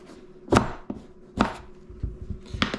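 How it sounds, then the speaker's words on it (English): A knife cuts straight down through the middle of a vegetable on a cutting board, landing in three loud, close chops spaced about a second apart with lighter taps between them. "I just cut straight down the middle"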